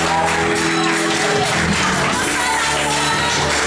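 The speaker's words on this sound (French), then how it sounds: "Applaudissez." Applause fills a civil wedding ceremony hall in a loud, dense, continuous wash of clapping mixed with crowd noise and some shouts.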